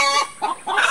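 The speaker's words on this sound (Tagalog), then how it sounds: "nag-iingay yung ating alagang manok" A pet chicken clucks close by in two or three quick, loud, throaty bursts within a second.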